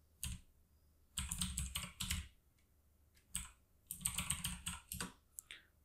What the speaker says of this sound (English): So I'll select the text tool and let's type in hashtag